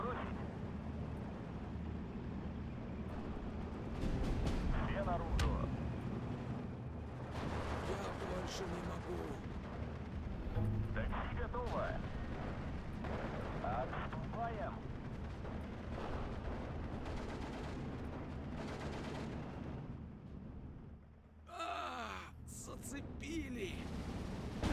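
Gunfire and artillery in a tank war video game, a constant rumbling battle bed with scattered distant booms and shots, while a person talks over it for much of the time.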